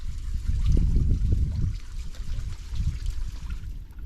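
A thrown stone plunges into water with a low, heavy splash followed by churning and trickling, then a softer second surge, outdoors and fairly close.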